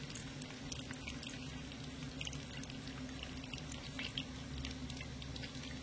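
Hot oil splashed with a spoon over pitha frying in a pan, a faint continuous crackle and sizzle with small liquid spatters, quiet and steady throughout.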